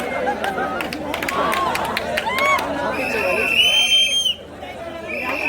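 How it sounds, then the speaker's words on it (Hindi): Spectators crowd a village kabaddi match between Joginder Giri Kemathiya and Gopalpur, a steady hubbub of chatter with sharp whistles and shouts rising through it while a commentator's voice talks over the scene. "दर्शक भी पूरी भीड़ लगी है।"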